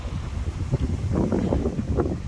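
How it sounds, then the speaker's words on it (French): Strong foehn wind gusts sweep through a forest during a storm, a steady loud roar with heavy buffeting and rumbling microphone wind noise that swells toward the middle. "il y a de ces rafales dans la forêt"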